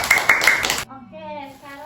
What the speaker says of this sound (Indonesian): kasih tepuk tangan buat Aska.